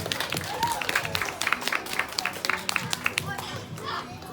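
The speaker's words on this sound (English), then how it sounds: "applause for our ball fighter." Audience applause at a parrot show in a hotel apartment complex: scattered, sharp individual claps from a modest crowd, fairly faint, with children's voices and chatter mixed underneath.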